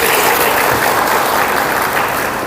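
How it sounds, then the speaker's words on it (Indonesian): Audience at a gathering with an Egyptian sheikh as guest, breaking into loud, dense applause that holds steady throughout. "Tepuk tangan untuk Bapak Ibu semua"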